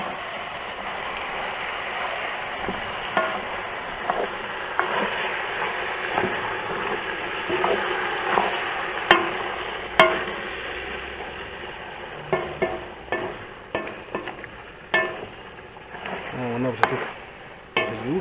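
Buckwheat porridge with beef stew stirred in a pot on an outdoor grill, a soft wet bubbling simmer with irregular spoon scrapes and clinks, faint voices now and then.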